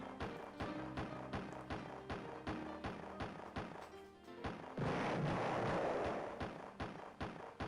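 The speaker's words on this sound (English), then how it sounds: "Did he just set off his own landmine with another landmine?" Landmine explosions in a retro-style video game sound as a regular series of short, sharp thumping blasts, with a brief burst of hissing noise midway; quiet overall and without speech.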